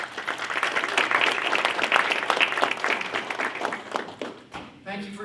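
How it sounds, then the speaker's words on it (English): Audience applause at an alumni athletic hall of fame banquet as Dr. Croom, president of Judson University, is introduced; steady dense clapping from a sizable crowd that thins near the end. "Thank you for your applause."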